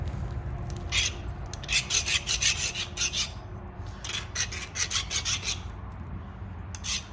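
A Tallahatta quartzite flint edge is abraded to sharpen it, giving close, dry rasping strokes in rhythmic bursts separated by short pauses, with no talking.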